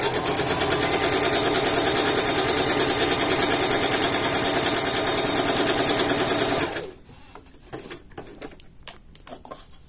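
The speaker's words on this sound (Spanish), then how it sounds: "Vamos a hacer la costura de unión." A sewing machine stitches a joining seam in a continuous fast whirring run for about seven seconds, then stops abruptly, leaving faint handling noises.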